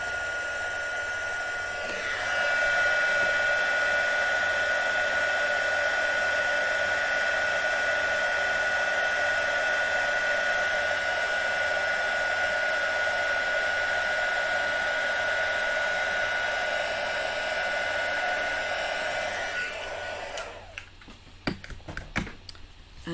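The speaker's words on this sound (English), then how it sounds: "Bring in my trusty cheese board and a heat gun, and let's see what happens." A heat gun melts embossing powder on a board, giving a steady, loud blowing hiss with a faint whine that runs for about eighteen seconds before switching off, followed by a few light clicks.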